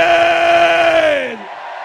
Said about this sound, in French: On crie Jésus